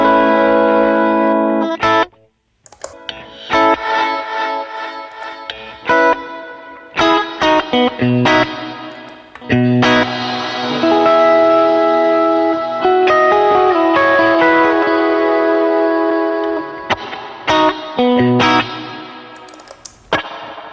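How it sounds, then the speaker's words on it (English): Electric guitar played through reverb and effects pedals in a pedalboard demo, with distorted chords and ringing notes, washy reverb tails and echoes, played loud and close in phrases separated by brief pauses. "I'll just give you a quick demo of some of the verbs and the tones."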